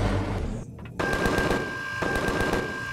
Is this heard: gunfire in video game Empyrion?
yes